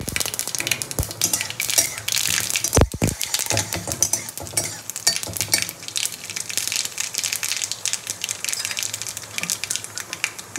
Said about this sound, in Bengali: এবার আমি সর্ষেটা দিয়ে দেবো।